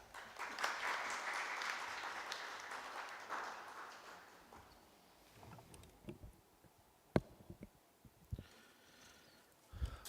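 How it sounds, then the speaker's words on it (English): Applause from the audience at a philosophy journal's anniversary gathering, a burst of clapping in the first few seconds that thins out, followed by scattered knocks and handling sounds in a quiet room. "So I request you all to please give him a big round of applause"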